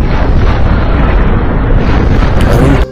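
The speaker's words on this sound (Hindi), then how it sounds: "भीषण धमाका हुआ" A huge explosion erupts as red powder is thrown into the air, a loud sustained rumbling blast that roars for about three seconds before cutting off abruptly.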